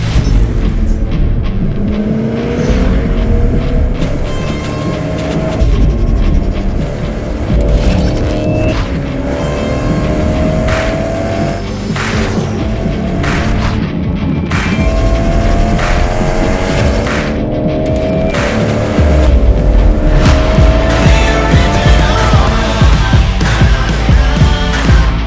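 A hybrid hypercar engine in a Need for Speed racing game roars loudly, with the pitch rising repeatedly through gear changes and a deep boom near the end.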